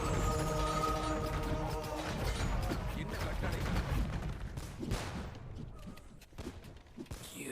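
Cannon galleon fire in a real-time strategy game batters a castle until it collapses: a dense, loud barrage of booming shots and crashing debris over game music, with impacts thinning toward the end.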